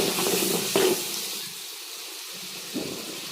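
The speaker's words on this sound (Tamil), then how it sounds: "இப்போ அம்மா பூண்டு போட்டு தாளிக்கிறாங்க" Garlic frying in hot oil in a pan for kuey teow goreng, a steady broadband sizzle throughout with a couple of brief stirring scrapes, close and moderately loud, with no talk.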